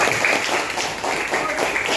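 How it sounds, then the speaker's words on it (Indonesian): Applause from a classroom group for a student, a brief burst of dense clapping with some voices mixed in. "Tepuk tangan dulu untuk Fauzi."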